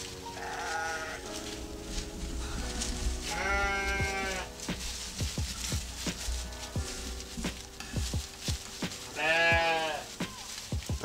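Bighorn sheep on a farm let out several loud, wavering bleats at intervals, close by, with a long one near the end and soft shuffling and patter between calls.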